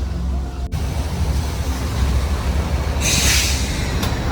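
Mini train on the Matheran mountain railway, its engine hauling carriages uphill: a steady close rumble and rattle of rolling wagons with a brief hissing burst near the end, no voices.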